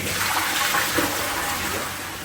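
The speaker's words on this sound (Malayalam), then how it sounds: "ഫ്ലഷ് തന്നെ ഇവിടെ ഓട്ടോമാറ്റിക് ഫ്ലഷ് ആണ്" A motorhome's chemical toilet flushes automatically, a loud close rush of running water that stays steady and then eases slightly toward the end, with no talking.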